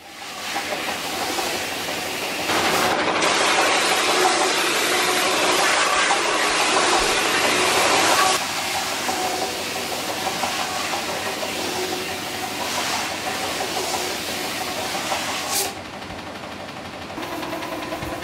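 Ski and snowboard waxing and tuning machine at Isola 2000 runs with a loud, steady broadband whir and hiss that holds for the whole stretch, its tone shifting slightly partway through.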